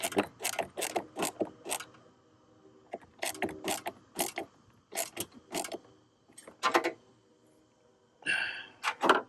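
A ratchet tightens the four bolts holding the blower motor into plastic on a 1997 Ford F350, giving close bursts of rapid clicking separated by short pauses, with no speech.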